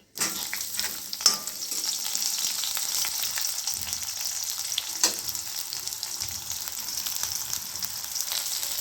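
Onions and curry leaves frying in hot oil for a brinjal dish, a dense, continuous crackling sizzle with an occasional clink of a spoon, close and steady, with no voices.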